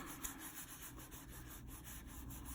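Steady soft rubbing of Inktense colour pencil onto paper, a close, continuous dry scratchy friction with faint repeating strokes and no voices.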